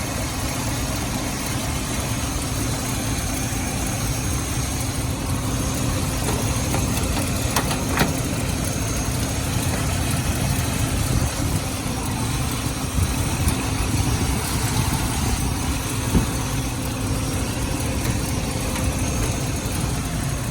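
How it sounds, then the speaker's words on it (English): A compressor on a 1931 Plymouth P4 suicide-door street rod runs with a steady, continuous mechanical hum and faint knocking throughout, close and constant, with no talk. "Take a quick look at our compressor. Oh yeah, compressor started."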